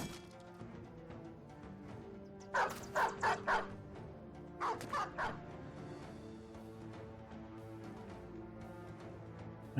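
War dogs in the Battle Brothers video game let out two rapid volleys of sharp barks, three or four each, over a low, steady game soundtrack, with a faint whimper between them.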